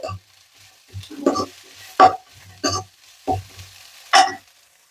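Capsicum being stir-fried in a pan for veg fried rice: a series of separate scraping stirs with light sizzling, roughly one stroke per second, close and fairly clear with no talk.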